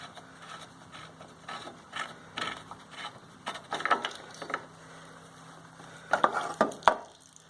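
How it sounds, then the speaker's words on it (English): A bolt assembly being unscrewed by hand on a John Deere E180 riding mower, heard as a series of close metallic clicks, scrapes and ratcheting rattles that grow busier toward the end, with no talk. "we're just going to unscrew it, and this whole assembly will come right off"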